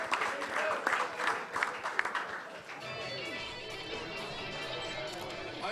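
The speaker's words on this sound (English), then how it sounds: "Let's give him a round of applause, Bada Hari and the big chief, Peter Graham." Crowd applauding at a press conference for kickboxers Badr Hari and Peter Graham, steady dense clapping that swells and holds, with a voice over the start.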